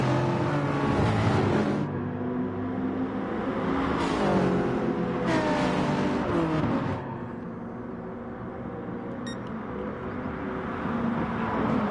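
Super Touring race cars racing at Brands Hatch in GT Sport, a pack of engines droning and revving continuously, with several cars swelling louder as they pass close by.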